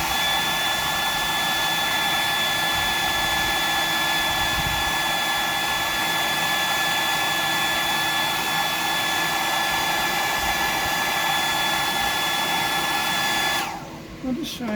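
A hair dryer blows loudly and steadily at close range, drying a deep-diver fishing lure blank, with a constant whining roar that cuts off near the end.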